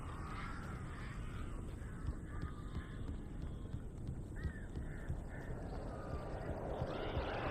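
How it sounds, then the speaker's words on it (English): A large flock of crows caws repeatedly in the horror game Alan Wake Remastered, the harsh calls scattered over a constant low rumbling ambience, moderately loud and continuous. "That is a crap ton of birds."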